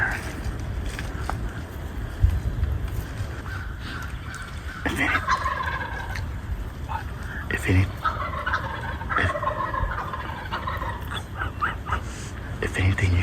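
Wild turkeys gobble at their roost in Minnesota woods on a hunt, repeated rattling calls coming from some distance amid steady outdoor background noise.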